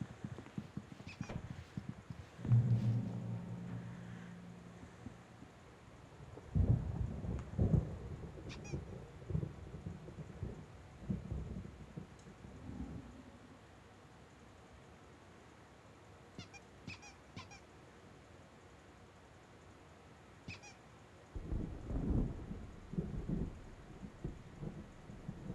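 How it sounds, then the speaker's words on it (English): Rolling thunder from a thunderstorm in the video game Alan Wake Remastered, with low booming rumbles swelling and fading among quieter ambient stretches and occasional faint high clicks. "There's a storm coming. Oh, what a storm."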